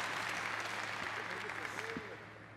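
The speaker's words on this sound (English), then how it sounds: "The crowd appreciating this action in Nagoya." Pro-wrestling crowd in Nagoya applauding during a fast-paced match, a dense wash of clapping and arena noise with commentary talking over it throughout.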